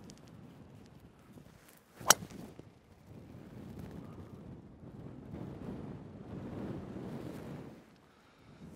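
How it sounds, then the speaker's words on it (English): Wind blows across an open golf course at about 25 miles an hour and rumbles against the microphone in uneven gusts. A sharp click is heard near the start, and there is no talking. "it is blowing about 25 miles an hour into the wind right now"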